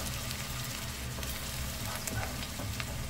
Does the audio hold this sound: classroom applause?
no